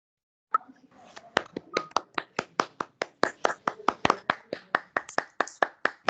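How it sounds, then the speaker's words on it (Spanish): A small audience at an online conference applauds the speaker through open microphones. A few people clap in a steady, fairly even rhythm of distinct claps that lasts several seconds. "le demos un fuerte aplauso"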